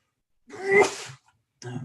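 A single sharp sneeze, close and loud, followed by a brief pause and a short burst of nearby voice.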